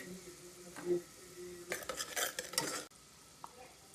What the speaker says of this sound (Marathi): जोपर्यंत कांदा फ्राय होतोय